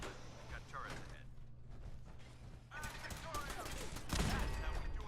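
Gunfire and clanking mechanisms in Fallout 4 near turrets in a compromised facility, with rapid bursts of shots and metallic clatter growing louder toward the end while a voice talks.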